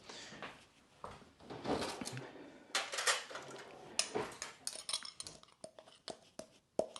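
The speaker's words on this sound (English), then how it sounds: "I actually need to use a spoon or something because it's stuck together." A spoon scrapes and clinks inside a container of clumped, hardened garlic powder in a home kitchen, producing irregular metallic taps, scratches and knocks, close and fairly loud, with no speech.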